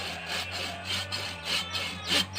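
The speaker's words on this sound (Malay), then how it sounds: "Ni nak potong" Rhythmic sawing strokes cutting through a wooden post, evened so four posts sit level; about five rasping back-and-forth passes close by, steady and moderately loud with no talk.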